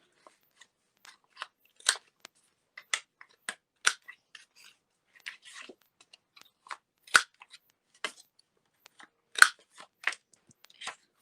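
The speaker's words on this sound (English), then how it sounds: "So let's trim the corners on this." Scissors trimming the corners of paper pieces for a Stamperia Lady Vagabond mini album, a series of short, crisp snips at uneven intervals, close and clear against near silence.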